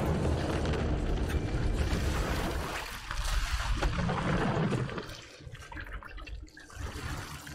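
A village blown apart in a Resident Evil Village cutscene: a loud, sustained roaring rumble with crackling debris surges for several seconds, then eases to a lower, uneven churn.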